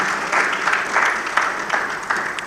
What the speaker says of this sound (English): I thought you would want to give ACEN a round of applause.